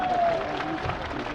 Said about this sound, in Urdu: ان کے لیے بھی تالیاں بجا دو